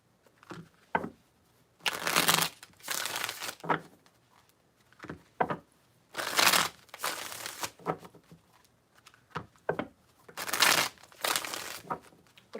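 Tarot cards are shuffled in three distinct rounds of riffling, crisp papery bursts with small taps and card handling between them, close to the microphone and without talk.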